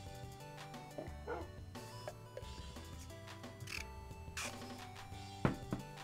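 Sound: dog barking in Minecraft video game

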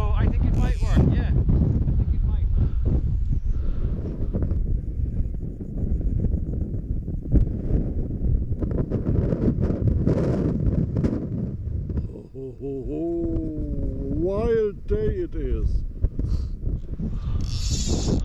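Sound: wind blowing by a lake while fishing

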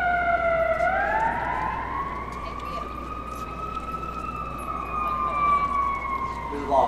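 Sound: siren

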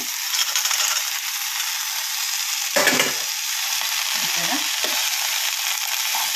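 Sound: stirring steamed field beans frying in a pan

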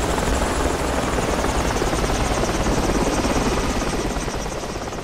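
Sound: helicopter in the video game Project Reality

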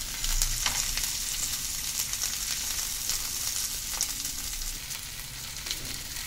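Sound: bay leaf, cardamom and cloves frying in oil, stirred

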